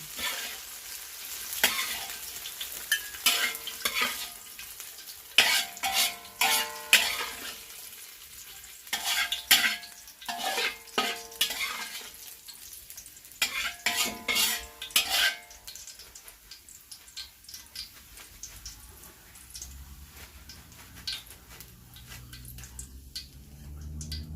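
Pink coconut-milk fried rice noodles are stirred and scooped from a large wok, with repeated scraping and clattering strokes in bursts, some gentle sizzling between them, and a quieter, low rumbling stretch near the end.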